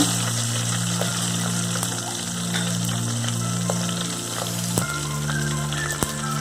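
Ingredients frying in a pan for Telugu-style tomato dal give a continuous crackling sizzle under a steady mechanical hum, with a few small taps of utensils near the end.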